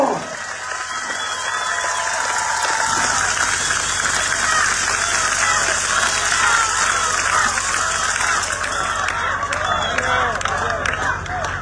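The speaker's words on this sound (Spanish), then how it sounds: "les pido un fuerte aplauso" Crowd applause at a Mexican municipal political rally in San Blas, dense clapping mixed with crowd murmur that builds after a brief opening and stays loud and continuous throughout.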